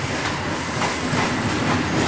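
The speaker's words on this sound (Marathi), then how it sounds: "ही लोकल या ठिकाणी आलेली" A local train at Khadki railway station in Pune rolls past close by, a loud steady rumble with clattering wheels and faint squeal, no voices.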